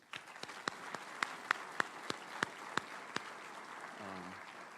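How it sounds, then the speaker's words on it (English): Scattered, distinct hand claps ring out from a small conference audience for the presenters, a dozen sharp claps spaced out over a quiet room, fading into a low murmur. "So can we give all these presenters another round of applause?"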